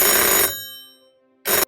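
An office telephone rings loudly up close: one long bright electronic ring, a decaying pause, then the start of a second ring cut short.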